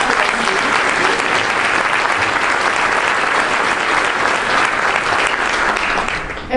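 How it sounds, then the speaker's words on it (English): Dense, loud applause from a large audience at a corporate legal award ceremony, a sustained roar of many hands clapping without break that thins slightly at the end. "And so you clap."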